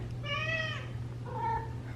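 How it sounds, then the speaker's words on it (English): A house cat meows twice, close by: a clear, rising call followed after a short pause by a softer, shorter one, over a low steady hum. "That's a good kitty."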